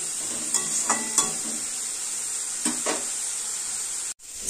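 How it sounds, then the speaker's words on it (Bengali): Grated radish fries in a pan with a steady high hiss and sizzle, broken by a few soft stirring scrapes and clacks before a brief cut-off near the end. "মূলো ঘষনিটা প্রায় ভাজা হয়েই গেছে"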